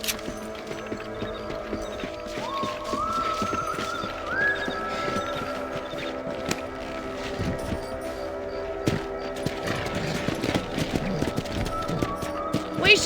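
Horses trot along in the Red Dead Redemption western video game, a steady clip-clop of hooves under layered game music and ambience, with scattered distant gunshot-like cracks.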